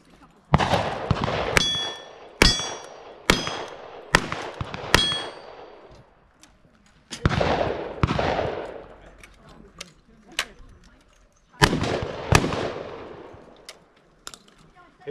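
Pistol shots at a cowboy action shooting stage in Escondido ringing off steel targets, a series of sharp reports each followed by a metallic clang, spaced unevenly with pauses between groups, loud and close.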